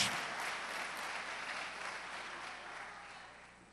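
A church congregation applauds Jesus Christ during a Portuguese-language sermon by Pastor Roberto de Carvalho, a broad wash of clapping that starts loud and slowly fades over a few seconds, with no voices on top.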